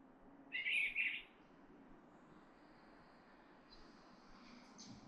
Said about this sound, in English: I appreciate even that little bird singing